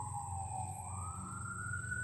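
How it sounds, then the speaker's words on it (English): A siren wails steadily in the distance, its tone sweeping slowly upward, over a low rumbling hum; no one speaks. "More sirens. More sirens."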